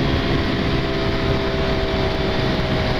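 A Honda Pop 110 motorcycle engine accelerating hard uphill gives a steady, loud, droning hum with a constant tone throughout, heard up close with no talking.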